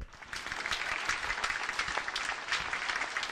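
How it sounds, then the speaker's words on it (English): Audience applause for Big Cat on a live talk show, steady close clapping with scattered sharper claps throughout, no voices over it. "Round of applause for Big Cat."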